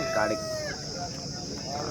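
A heavy, roughly three-year-old Tamil Nadu lineage country rooster, about 5 kg, crows once near the start at a village country-chicken market, with crowd chatter and talk running underneath throughout.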